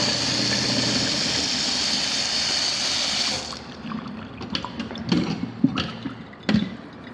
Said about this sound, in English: 5/8 horsepower garbage disposal.